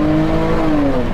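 SUV engine revving under the driver's throttle, a loud, close, sustained tone that glides slightly downward as the revs settle, heard from inside the vehicle with no talk.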